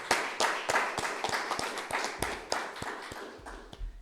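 A church congregation in Pouso Alegre claps in a steady, even rhythm during a Tuesday worship service, rapid regular claps filling the room at moderate loudness with a low hum underneath and no talking.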